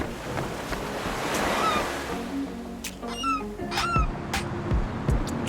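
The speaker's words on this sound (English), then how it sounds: "I started my day at the beach." Ocean waves washing onto a beach, a steady broad surf roar with gusts of wind buffeting the microphone and a few bird calls overhead.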